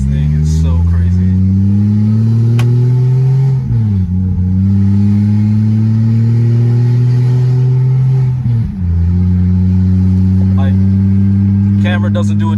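A single-turbo 1JZ-powered Lexus GS300 revving loudly on a night drive, its engine note climbing in pitch across two long pulls with brief dips between shifts, close and constant throughout.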